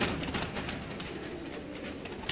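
Pigeons coo softly in a loft with pure and crossbred birds, a low steady murmur of overlapping calls running continuously under faint background noise.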